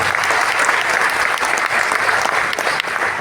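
Sustained audience applause at a Yakshagana foundation event in Udupi, a dense steady wash of many hands clapping close and loud throughout, with no talk over it.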